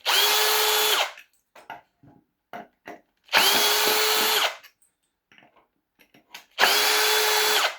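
A power drill whirs in three loud bursts of about a second each, backing out screws in a woodturning workshop, with scattered clicks and light knocks of handling between the runs.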